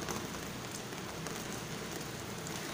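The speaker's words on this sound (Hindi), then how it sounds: "और इतनी जोर से एकदम बारिश आई है कि पूछो नहीं।" Heavy rain pours down steadily in a dense, even hiss that fills the whole moment, with no voices over it.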